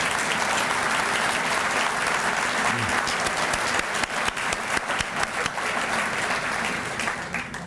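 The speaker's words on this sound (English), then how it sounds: "let's give them a round of applause" Audience at a State of the County event breaking into sustained applause, a dense wash of many hands clapping steadily, with faint voices underneath.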